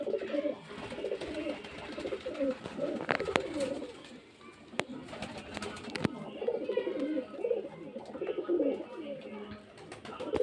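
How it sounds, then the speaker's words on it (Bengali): Pigeons coo repeatedly in a dense, continuous chorus at a pigeon sale in Beldanga, Murshidabad, close and fairly loud, with a few sharp clatters and faint background voices mixed in. "পায়রাগুলো এই যে পায়রা দেখতে পাচ্ছেন"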